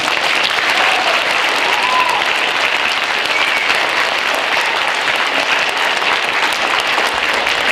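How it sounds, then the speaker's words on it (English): A large audience claps steadily and loudly throughout, a dense, even wash of applause with no pauses. "Can we give her one last round of applause?"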